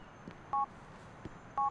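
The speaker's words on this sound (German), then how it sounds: "So, ich rufe jetzt Dwayne an." Two short dual-tone keypad beeps from a phone being dialed in the video game GTA IV, evenly spaced about a second apart, clean and alone over a faint game background.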